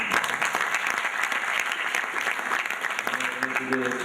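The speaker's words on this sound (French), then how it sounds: "ça s'applaudit." Applause from the audience at a round-table forum at EHTP, steady dense clapping filling the room, with a voice coming in over it near the end.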